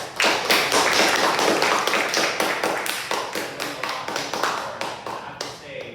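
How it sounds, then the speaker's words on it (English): A crowd in a lecture hall claps in a round of applause, the many hand claps loud and dense at first and then slowly thinning and fading toward the end. "let's give a big round of applause"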